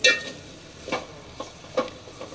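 Leftover roti pieces being stirred into cooked masala in a pan, with a few distinct scraping stirs over a faint sizzle and no voices.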